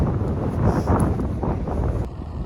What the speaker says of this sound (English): It is super windy though, so let me cover that.